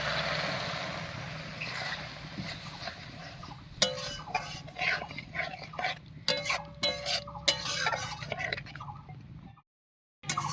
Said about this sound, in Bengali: এবার আরও একটু মশলা বাটা জল দিয়ে কষিয়ে নেব